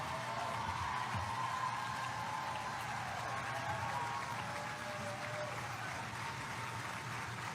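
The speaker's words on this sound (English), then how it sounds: "listen to that applause" Steady applause from a large crowd at a Moms for Liberty convention speech by Donald Trump, a dense continuous patter of clapping that holds at an even level throughout.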